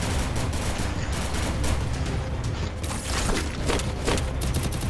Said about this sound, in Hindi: कूलर का आवाज लग रहा है